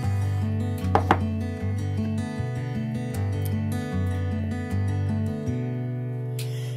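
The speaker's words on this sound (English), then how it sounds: "I think that last potato got chopped up" A knife chops potatoes on a board in a quick, uneven series of close thuds and taps, heard alone over a faint tonal background.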